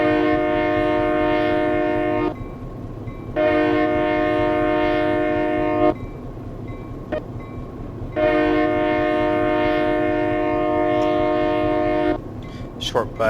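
A diesel locomotive horn on the Stevens Pass route in Train Simulator 2014 sounds two long, loud multi-tone blasts separated by a short gap, over a constant low rumble of the train with a few sharp clanks.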